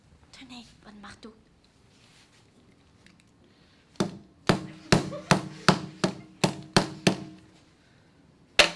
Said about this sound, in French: Tenez, bonne marteau.